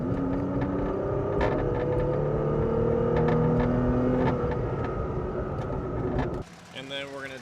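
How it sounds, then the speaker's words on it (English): Heard from inside the cab, a third-generation Toyota Tacoma with its factory intake accelerates under throttle, its engine hum rising steadily and loudly before dropping off near the end, with voices talking over it. "I'm going to give it some gas."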